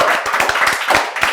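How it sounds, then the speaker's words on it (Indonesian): Studio audience clapping for the Indonesian futsal federation on a talk show, a short burst of close, distinct handclaps in quick irregular rhythm. "Tepuk tangan dong buat Federasi"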